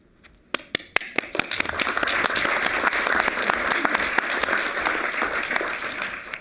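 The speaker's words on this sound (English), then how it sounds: "We are never too busy to applaud a great donation" Applause at a Board of Trustees meeting after a donation is approved: a few sharp early claps quickly swell into steady, sustained clapping from a room of people that carries on to the end.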